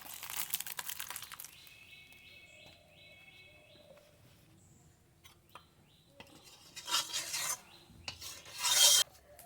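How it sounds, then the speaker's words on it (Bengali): Wheat flour dough is kneaded by hand, giving soft rubbing and squishing noises that stay quiet at first and then build into louder slapping bursts near the end, with no talking. "আটা আর একটু খুব ভালো করে মেখে নেব"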